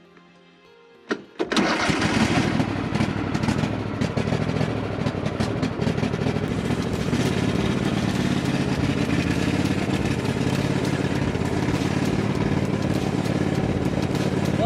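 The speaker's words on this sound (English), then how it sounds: "Start it right up." A riding lawnmower engine, started with a screwdriver in place of the missing key, cranks briefly, catches with a sharp burst and then runs steadily and loudly at a constant rumble.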